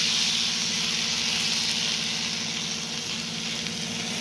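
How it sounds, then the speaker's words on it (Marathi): Besan dhapate fry in oil on a hot tawa, giving a loud, steady sizzle that stays even and unbroken throughout, with no voices over it. "तवा आपला व्यवस्थित तापलेला आहे आता याच्यावरती तेल घालून घेतलंय व्यवस्थित तेल सगळीकडे पसरवून घेऊया आणि आता आपण हे धपाटे यावरती घालून घ्यायचं आहे"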